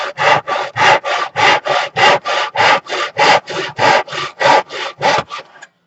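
A handsaw cuts through a small wooden block in about fourteen even back-and-forth strokes, loud and close, with a steady rasping rhythm that stops abruptly; no talking.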